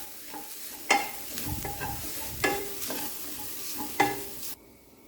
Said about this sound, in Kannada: ಸ್ವಲ್ಪ ಅರಿಶಿನ ಪುಡಿ ಹಾಕ್ತಾಯಿದ್ದೀನಿ. ಅದಕ್ಕೆ ಒಂದು ಸ್ವಲ್ಪ ಹೊತ್ತು ಫ್ರೈ ಮಾಡ್ಕೊಳ್ಳೋ.